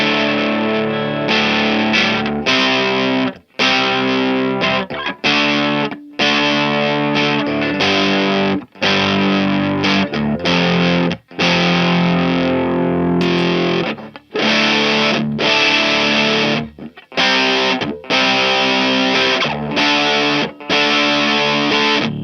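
An electric guitar played through a slightly overdriven Vox amp strums gritty chords in repeated phrases, with short pauses between them, loud and close with no talking.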